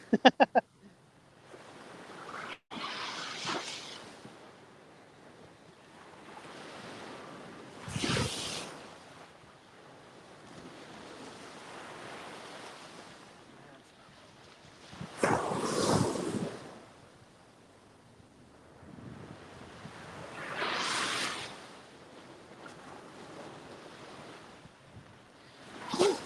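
Ocean surf on a beach in Panama City, Florida, with waves washing in every few seconds as broad rushing swells, heard under steady wind noise on the microphone.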